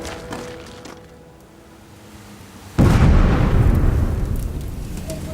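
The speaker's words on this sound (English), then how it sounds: "There's been an explosion outside the camp, close enough to concern the garrison and the medics." Explosion outside a military camp in Afghanistan: a sudden heavy boom bursts in partway through after quieter ambience, followed by a loud rumbling, slowly fading tail.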